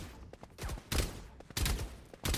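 Rapid bursts of gunfire from a first-person shooter video game come in several close, loud volleys with short gaps between them.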